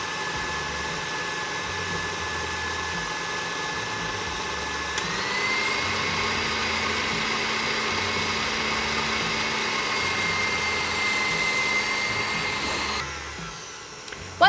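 An electric mixer whirs steadily as it creams butter and sugar for a sticky date pudding, a constant loud motor drone that shifts pitch as the speed rises, then cuts out near the end.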